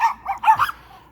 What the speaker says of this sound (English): 9 dogs.